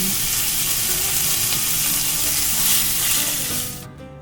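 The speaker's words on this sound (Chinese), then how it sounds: "把裹好面粉的鸡胸肉放进来锅里煎。" Flour-coated chicken breast pan-frying in hot olive oil, giving a loud, continuous close sizzle that drops away abruptly near the end.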